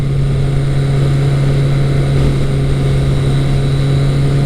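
Kawasaki ZL900 Eliminator cruiser engine revving high, above 6,000 RPM, a loud continuous drone with steady wind noise, heard from the rider's position with no talk.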